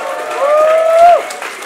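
A short burst of crowd applause and cheering at a fight event rises and fades over about two seconds, with an announcer-like voice carrying over it.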